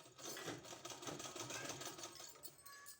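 A sewing machine stitches a thin seam along a fabric strip, running continuously in a fast, even mechanical whir with rapid needle clatter, close and steady throughout.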